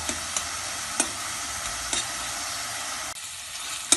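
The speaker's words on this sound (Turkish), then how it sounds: "Evet salçamla da kavurdum." Minced meat frying in a pot with a spoonful of mixed pepper and tomato paste for soup, a steady close sizzle broken by a few sharp spoon scrapes, no talking.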